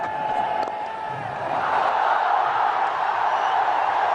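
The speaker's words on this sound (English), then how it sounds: "This crowd goes wild." A cricket stadium crowd at an India versus Pakistan one-day international roars continuously, a broad wash of distant cheering that swells louder midway and holds steady.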